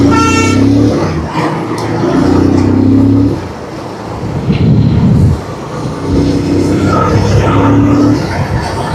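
A go-kart engine on a karting track drones loudly and close, its buzzing tone rising and falling as the kart speeds up and eases off, with a brief dip before revving again.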